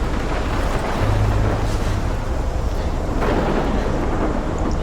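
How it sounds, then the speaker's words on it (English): Thunderstorm in the Life is Strange video game: a steady roar of wind and rain with a deep rolling thunder rumble swelling partway through, loud and continuous with no talking. "there's the storm. The super tornado hurricane thing."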